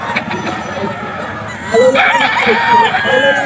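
Roosters crow at a gamecock farm, with one loud, nearby, drawn-out crow rising in the second half over a low background bustle and some clucking.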